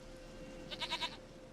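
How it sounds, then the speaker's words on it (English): Goat in The Witcher 3: Wild Hunt lets out one wavering bleat of three or four quick pulses, moderately faint over a low background hum. "Goat of mine, dearest,"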